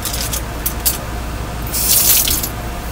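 Water runs from a tap over makeup brushes being soaked during cleaning, a close, steady splashing hiss with bursts of stronger spray and drips.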